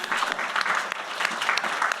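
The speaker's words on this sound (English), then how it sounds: "Round of applause, Alan." An audience at a garden and nature festival talk claps for a speaker, a brief, moderately loud burst of many hands with some individual claps standing out.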